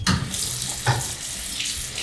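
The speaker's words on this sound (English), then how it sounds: "Wash your hands with soap and hot water for the length of time it takes to sing Happy Birthday twice." Hot water running from a tap into a sink for hand washing, a steady close splashing hiss with small surges of water hitting the basin.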